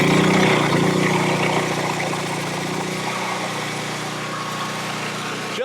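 A Harbor Freight generator starting on a cold day of about 50 degrees, then running steadily with a loud, even engine drone that eases slightly after the first seconds. No one speaks.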